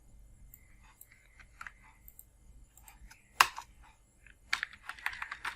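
Password typed on a computer keyboard, with scattered soft key presses and clicks at an uneven pace, up close and quiet, then a louder burst of quick clicks near the end, over a faint hum.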